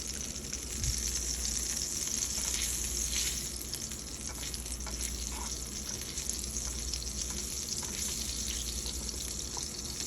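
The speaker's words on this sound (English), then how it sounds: "let me melt this butter" Butter melting in a hot pan on a stove, giving a steady, loud, close sizzle and crackle that continues without a break throughout, with faint clinks now and then.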